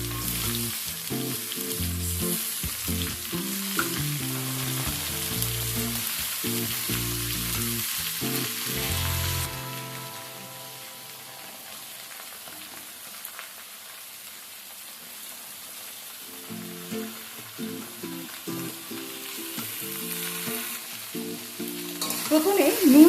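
Mixed vegetables, tossed over high flame after lightly fried onion, sizzle and crackle steadily in hot oil with stirring scrapes; the frying quiets midway, then builds again toward the end.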